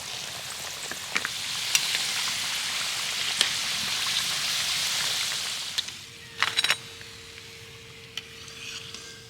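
Palm gokul pitha frying in oil gives a steady, hissing sizzle like light rain, with occasional sharp pops and a brief clatter of utensils partway through, close and moderately loud.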